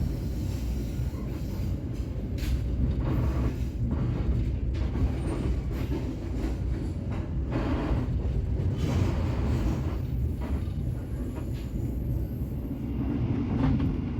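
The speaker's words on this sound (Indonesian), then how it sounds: "kereta api Joglo Semarkerto masih stabil kecepatannya di sekitaran 75 km per jam ya" Joglosemarkerto passenger train running steadily at about 75 km/h between Solo and Tegal, heard from inside as a continuous loud low rumble and rattle of wheels on rails, with no talking.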